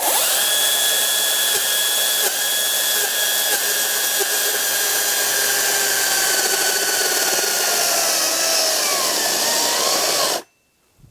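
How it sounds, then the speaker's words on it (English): A Makita chainsaw makes a plunge cut at full speed, a loud, steady high-pitched whine that runs for about ten seconds and then cuts off abruptly. "plunge cut with the Makita on full speed"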